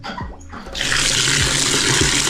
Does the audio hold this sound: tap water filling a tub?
yes